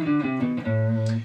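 Guitar playing a short melodic phrase in the Dorian mode, starting from G, with several clear notes that ring on over one another, played alone.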